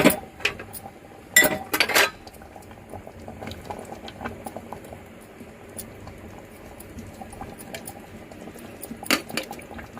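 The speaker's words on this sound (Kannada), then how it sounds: "ನೋಡಿ, ಇವಾಗ ಚೆನ್ನಾಗಿ ಕುದೀತಾ ಇದೆ." Liquid bubbles at a steady boil in a cooking pot for brinjal palya, soft continuous burbling with a few sharp clinks of metal utensils near the start and end, close and fairly quiet, no voices.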